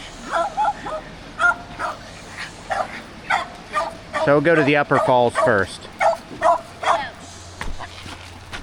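Dogs meeting on a North Georgia waterfall hiking trail, yipping and whimpering in a burst of short high cries amid scattered barks, with a person talking nearby over it.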